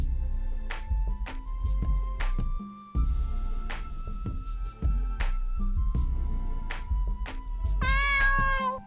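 Repeated cat meows in a catch-the-cat minigame of the video game Ethereal Sunder, several clear close calls over game music with sharp clicks, ending in a longer rising meow.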